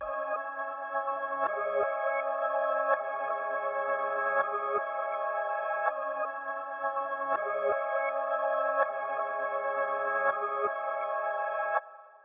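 A reversed sample chopped per bar and crossfaded in FL Studio plays as a steady, sustained tonal pad with swelling chords and soft breaks at regular intervals, alone and ending abruptly.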